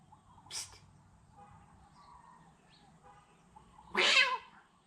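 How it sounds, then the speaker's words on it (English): A cat meows twice close by beside an ASC 2680 drone, the first call short and moderate, the second louder and longer, over a quiet low background hum. "You have the cat checking this thing out"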